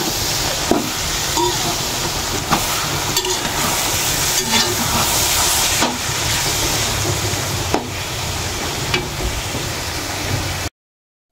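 Sinantol cooking in oil rendered from coconut milk, stirred with a spoon or spatula: a continuous loud sizzle with repeated scraping strokes and soft knocks against the pan at an uneven rhythm.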